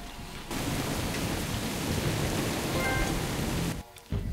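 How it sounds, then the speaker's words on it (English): Steady heavy rain and rolling thunder from the island in Jurassic Park: The Game form a constant roaring wash that cuts out abruptly near the end. "Rain's easing up."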